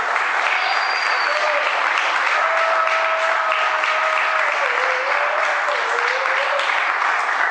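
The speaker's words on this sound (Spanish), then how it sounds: "Denle un aplauso bien fuerte." Loud, steady applause from a church congregation continues throughout, with a sustained tonal voice or whistle drifting over the clapping.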